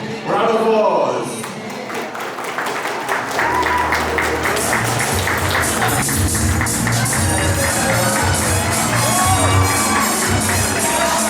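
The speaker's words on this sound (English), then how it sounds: "Round of applause." An audience at a Pakistani wedding reception breaks into sustained applause and cheering that fills the hall after a brief spoken introduction.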